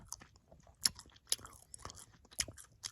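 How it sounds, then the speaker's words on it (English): Gum chewed right at the mic in ASMR style gives quiet, wet, sticky smacks and crisp little snaps in an irregular rhythm, with no talking. "ASMR gum chewing"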